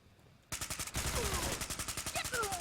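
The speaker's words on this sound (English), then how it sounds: "we're getting a little bit of panic fire there" Rapid automatic gunfire from enemies in Fallout 4 bursts in after a short quiet start, a loud, even stream of shots continuing to the end with faint ricochet whines.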